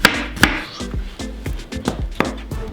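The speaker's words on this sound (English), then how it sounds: "We're just going to cut this up to about inch chunks." A knife chops a cored pineapple into inch chunks on a cutting board, with a quick run of sharp, close knocks in a steady rhythm.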